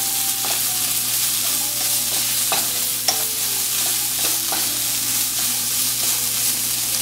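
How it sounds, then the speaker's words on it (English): Bengali taro stem curry being stirred and mixed in a pan after salt and sugar go in, a continuous loud sizzle with repeated spoon scrapes and taps in an uneven rhythm. "and mix it well"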